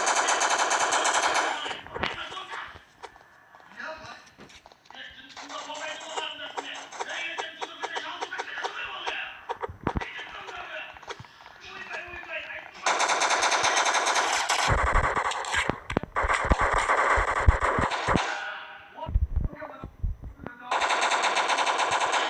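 Machine gun fire in the Block Strike video game, with long rapid bursts separated by short pauses. The bursts are loud and sharp, and a quieter stretch of game noise sits between them.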